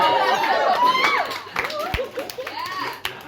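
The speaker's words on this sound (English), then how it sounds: "That got more of a cheer than it should" A stand-up comedy audience cheers and whoops in a lively mix of shrill yells and chatter, with a few scattered claps across a few seconds.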